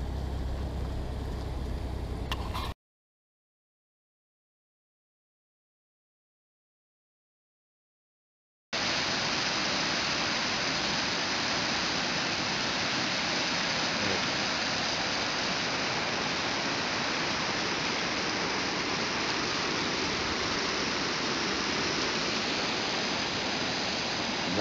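Rushing river in Crescent Falls Provincial Park, Alberta, a broad steady roar; a brief burst, then several seconds of total silence, then continuous loud rushing water for the rest.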